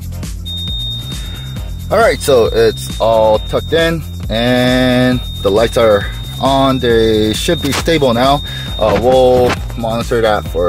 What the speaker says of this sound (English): That's why it's beeping the whole time.